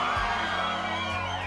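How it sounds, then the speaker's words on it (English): Short burst of an audience cheering and whooping in the Cupid Parasite visual novel, a loud crowd roar that fills the moment. "Suddenly, the audience lets out a cheer."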